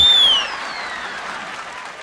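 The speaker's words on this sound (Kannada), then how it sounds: "ಒಳ್ಳೆದ ಚಪ್ಪಾಳೆ ಬಡಿರೋ" Applause breaks out at a stage comedy show, a short burst of clapping that starts loud with a whistle-like tone riding over it, then thins into lighter, quieter clapping.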